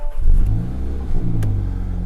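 A Mini F56 John Cooper Works engine catches and settles into a steady, loud, close rumble after ignition, just after radiator, air conditioning and intercooler work, with a brief rise in revs early on.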